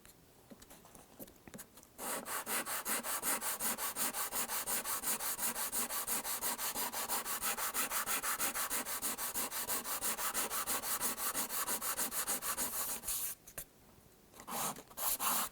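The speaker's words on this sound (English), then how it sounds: "Sanding the back of the guitar went very smoothly." Steady, rhythmic rubbing of sandpaper across the smooth finished wooden back of a guitar, continuous back-and-forth strokes for several seconds before briefly stopping and resuming.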